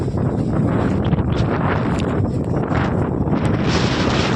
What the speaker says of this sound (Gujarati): વાયરો ઘણો છે મિત્રો